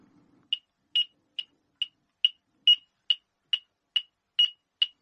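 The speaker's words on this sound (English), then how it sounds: "my metronome's on 140 at the moment with a slightly weak battery, but we should still hear it" A metronome with a slightly weak battery clicks steadily at 140 bpm, crisp regular ticks sounding alone in near silence after a brief low murmur at the start.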